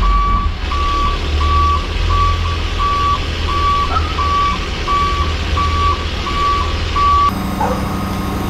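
A delivery truck reverses with loud, regular reversing beeps, about a dozen evenly spaced tones over a steady engine rumble, close by and with no talk.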